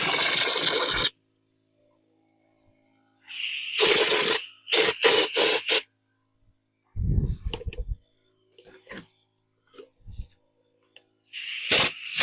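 Concrete sprayed onto planters to form imitation limestone, heard as several loud hissing, rasping bursts of spray separated by silent pauses, with brief low knocks and rumbles between them.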